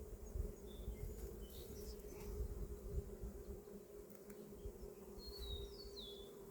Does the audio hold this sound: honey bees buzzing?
yes